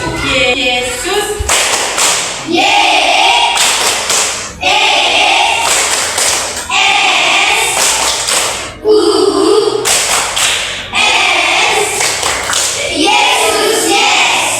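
Children in a classroom perform a 'tepuk Yesus' clapping chant, a regular cycle of crisp group claps and loud unison chanted words repeating close by over about fourteen seconds.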